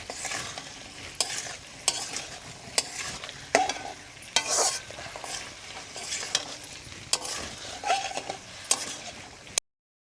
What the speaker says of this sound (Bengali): ভালো করে একটু নেড়ে চেড়ে নেব